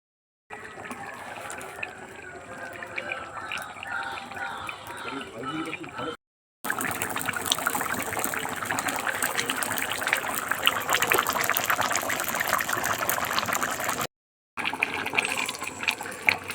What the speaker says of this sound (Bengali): আলুগুলো দিয়েও কষানো হয়ে গেছে, এবার গরম জলটা দিয়ে দেবো